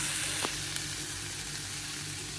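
Food frying in butter with a little oil gives a steady, close hiss of sizzling with a couple of faint clicks. No voices are heard.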